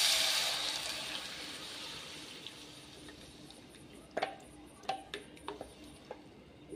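Ground broccoli paste mixed with hot water is poured into a pan for soup, starting as a splashy pour that fades, followed by several light clinks and taps of a utensil on the pan.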